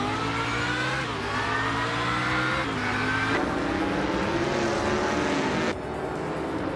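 A 2015 Chevrolet Corvette race car accelerating off the line among other cars, a loud continuous engine roar climbing through several gear shifts, with no talking.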